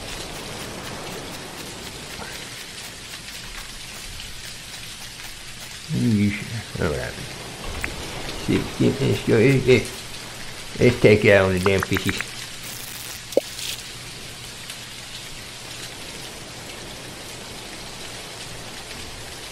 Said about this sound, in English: I'm salty because it's raining.